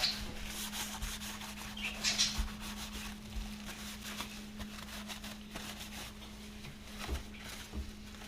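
Steady cloth rubbing and wiping strokes spreading oil on a muzzleloader rifle, continuous and close, with a low electrical hum underneath and no talking.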